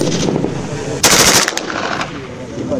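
Automatic fire from KCR 556 and KMR 762 rifles during weapons trials at an arms exhibition. Loud, close bursts of rapid shots crackle over a busy background, with voices faintly mixed in.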